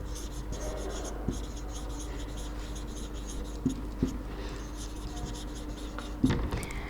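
Faint scratchy strokes of writing on a board during an English grammar lesson, short marks in irregular bursts with pauses between them, no speech.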